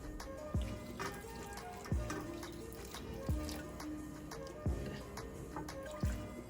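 Water being added to sugar in a pan for traditional Mysore Pak, heard as a series of five evenly spaced drips or splashes, clear and close, with no voices.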